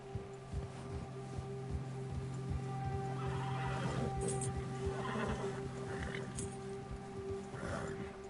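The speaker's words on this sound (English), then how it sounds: "Você assustou seu cavalo. Quando um predador está por perto, seu cavalo fica agitado." In Red Dead Redemption 2, a spooked horse whinnies several times amid clopping hooves and soft rustling, layered over a faint, sustained tonal backdrop at a moderate, fairly quiet level.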